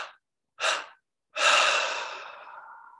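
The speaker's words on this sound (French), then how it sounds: "on expire 3 fois par la bouche et le nez" Breathing out through the mouth and nose during a guided meditation: three separate exhalations, two short puffs followed by a long, trailing breath that fades slowly, close and clear with no talking.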